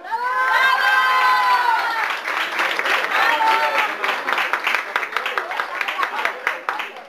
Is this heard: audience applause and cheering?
yes